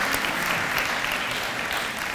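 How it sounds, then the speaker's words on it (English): Sustained, dense applause from a crowd at a fall nursing pinning ceremony, steady and fairly loud throughout with no break. "Give them a round of applause"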